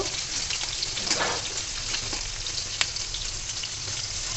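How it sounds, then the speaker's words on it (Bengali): Chopped onions frying in hot oil in a home kitchen pan, a steady dense sizzle that fills the clip with a brief louder crackle and a sharp pop partway through, no voices. "এখন পেঁয়াজগুলো একটু ভেজে নিব"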